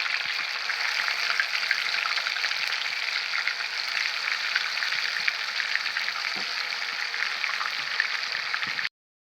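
Green chicken fry pieces crackle in hot oil with curry leaves, making a close, steady sizzle that holds evenly throughout. Faint stirring knocks sound under the sizzle, which cuts off abruptly at the end.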